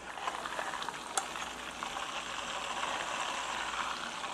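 Tuna fish sizzles and fries steadily in a pan, a soft continuous crackle with an occasional sharper pop.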